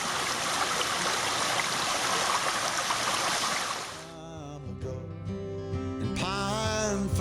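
Pine Creek flows steadily through its narrow valley, a close, full rush of water for about four seconds before it abruptly gives way to music.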